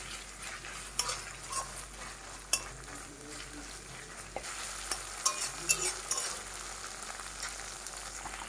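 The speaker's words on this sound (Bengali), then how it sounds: "সুন্দর করে 4-5 মিনিট মতন মশলাটাকে কষিয়ে নিতে হবে" A ground cumin-coriander masala paste for mutton fries in a pot, with a soft, steady sizzle broken by occasional stirring scrapes and light taps of the spoon.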